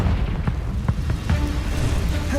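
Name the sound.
Confringo blasting spell explosion from a video game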